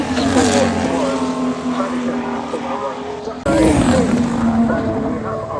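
Formula 1 race cars roar along the track at the Zandvoort Dutch Grand Prix, a loud continuous engine whine that dips and then surges again as another car passes, with voices talking over it.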